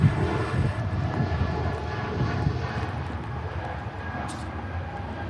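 Aircraft departing Manchester Airport in stormy weather, a steady broadband engine roar held at moderate loudness throughout with faint wind and background noise.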